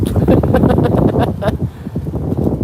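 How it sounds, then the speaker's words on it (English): Outdoor wind buffets the microphone in gusty, irregular bursts of low rumble that stay loud and close for the whole stretch, with no talking. "it's windy"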